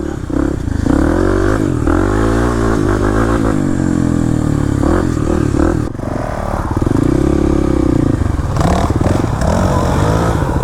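A Kawasaki KLX300 dirt bike revs hard and continuously on a muddy trail after a rainstorm, its loud, near engine rising and falling through repeated throttle surges with some clatter, alone without talk.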